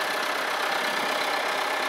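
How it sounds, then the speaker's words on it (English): A tractor engine running steadily nearby, a dense, even mechanical roar with no breaks and no talk over it. "This is a brother-in-law's tractor"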